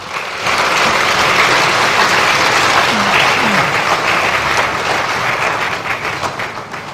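A crowd at a 2022 International Women's Day ceremony breaks into sustained applause, loud and dense, rising after a brief quiet start and holding steady for over six seconds before easing slightly at the end.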